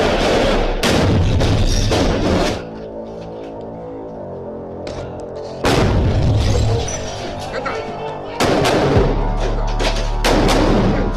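Gunfire and grenade blasts during a Marine raid, several loud bursts of shots and booms separated by quieter stretches.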